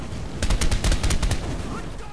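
Rapid bursts of automatic gunfire in a shooter video game, a loud close string of shots that stops abruptly, leaving a low background.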